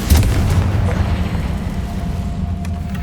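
A Confringo spell explosion in the Hogwarts Legacy video game, a loud booming blast at the start that settles into a sustained rumbling roar for about three seconds.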